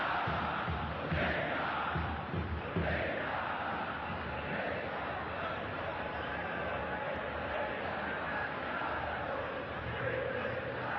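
Packed stands in an Al Ahly versus Zamalek football video game match give off a steady, dense roar of crowd noise with chanting swells, continuous and moderately distant.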